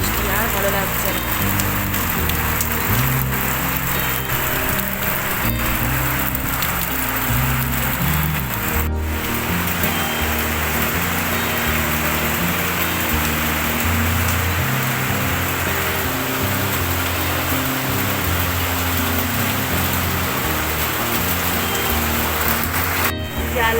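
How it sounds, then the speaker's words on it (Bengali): Steady rain falls outside a window, a dense continuous hiss lasting throughout with no pauses, a couple of brief clicks standing out against it. "দেখো কিরকম বৃষ্টি হচ্ছে, প্রতিদিন বৃষ্টি, আর ভালো লাগছে না।"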